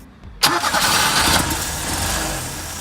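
An Opel Manta engine, just refitted and with an exhaust leak, fires up abruptly after a brief silence and settles into a loud, steady running idle close by.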